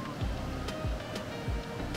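Ocean waves at Cerritos beach in Baja, a steady wash of surf with rhythmic low swells rolling in about every three quarters of a second, moderately close.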